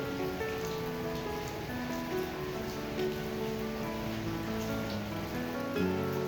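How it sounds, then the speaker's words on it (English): Light drizzle patters steadily on surfaces outdoors, a soft, even hiss of small raindrops at low level with no voices. "Like right now, it's drizzling."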